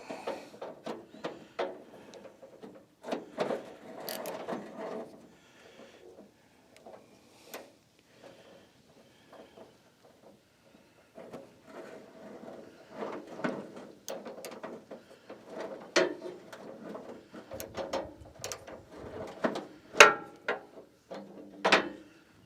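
A socket wrench works on a radiator in a U-Haul F600 truck, making irregular ratcheting clicks and metallic clanks in short bursts, close by, with quiet gaps between.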